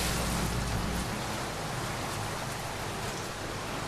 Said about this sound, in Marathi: हा पाऊस असा बेधुंदपणे सतत बरसतो आहे.